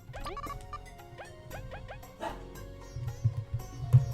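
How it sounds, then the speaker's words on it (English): A small puppy yips and barks in quick, high bursts close to the microphone during a Bug Fables gameplay session, with soft game music underneath and a few low thumps. "What are you barking at? Why are you barking?"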